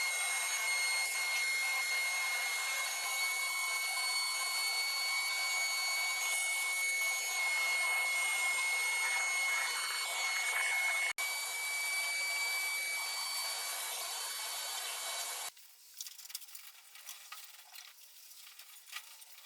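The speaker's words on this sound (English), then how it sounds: "I am going to vacuum out all the nooks and crevices of this sander really well" A vacuum cleaner roars steadily and close for about fifteen seconds while sucking dust out of a belt/disc sander, with a high whine running through it, then cuts off, leaving faint rustling and handling noises.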